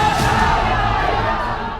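A crowd of protesters in Mau, India, runs and shouts, a dense roar of many yelling voices with cheering and whoops, loud and continuous before easing slightly at the end.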